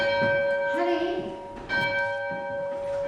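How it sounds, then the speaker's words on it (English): A church bell rung by pulling its rope, with a bright sustained ring and steady overtones across the clip while a voice talks faintly underneath. "I want you to pull the bell rope."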